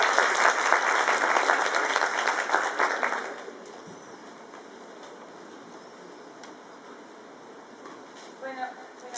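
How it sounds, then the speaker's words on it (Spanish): An audience at a talk on socio-ecological resilience applauds to welcome the speaker Merelyn Valdivia; loud, dense clapping fills the room for about three seconds, then fades to scattered claps and a quiet hall. "recibamos con un fuerte aplauso a Melanie Valdivia"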